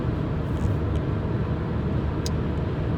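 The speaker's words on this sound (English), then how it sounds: "I am driving to my next destination, home." Car interior on the road while driving home, a steady loud low rumble of engine and tires throughout, no talking.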